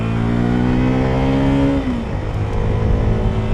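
A CFMOTO 300SS sport motorcycle's engine drones loudly while riding, a steady rising whine that dips sharply as the revs drop, then settles into a lower hum, close and continuous with no talking.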